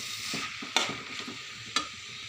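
Maggi masala being stirred in a frying pan, a soft steady sizzle broken by two sharp spatula scrapes against the pan.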